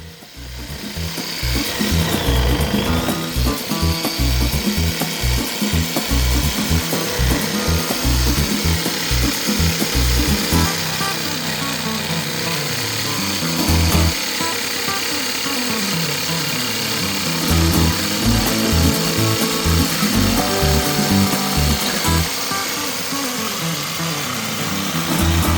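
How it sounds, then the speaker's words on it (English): A jigsaw cuts out a rounded piece of wood for a battery pack for an outdoor light, giving a loud, continuous rapid rasping buzz with rhythmic chatter throughout. "he's just going to come in with the jigsaw and cut this out"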